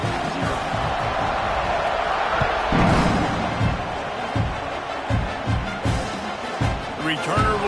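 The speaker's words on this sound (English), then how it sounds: "this crowd is buzzing after that last score." Football stadium crowd at an Oklahoma versus Notre Dame game buzzing after a score, a steady dense roar with swells and scattered shouts, heard under continuous commentary.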